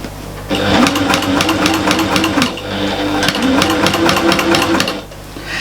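A sewing machine bastes layers of fabric for a storage caddy in two loud, steady runs of rapid stitching close by, with a brief pause between them.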